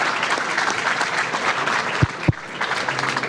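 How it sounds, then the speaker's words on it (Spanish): An audience at a Spanish-language lecture on the hidden costs of climate change claps steadily throughout. Two short knocks sound near the end. "le vamos a dar un fuerte aplauso para que arranque"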